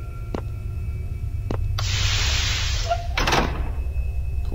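A sliding door in SCP Containment Breach opens with a long pneumatic hiss over a low mechanical hum, followed by a second burst of hissing and a couple of faint clicks.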